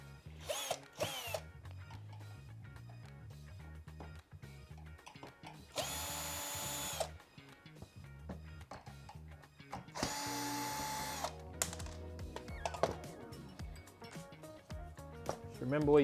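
A power drill whirs in two loud bursts of a couple of seconds each, removing screws from a Fisher Paykel tumble condenser dryer, between ratcheting clicks and tool handling noise at close range.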